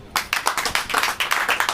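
An audience at a church sermon claps in a steady rhythm, roughly six to eight beats per second, loud and close.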